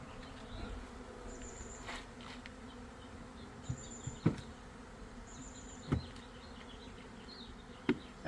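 A swarm of honeybees buzzes in a low, continuous hum, with individual bees zipping close by in a few brief louder passes.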